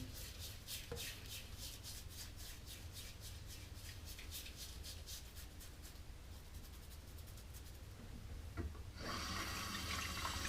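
Water runs from a bathroom tap in a steady, faint stream, then surges louder and fuller near the end as the flow increases or hands go under it, with no talking.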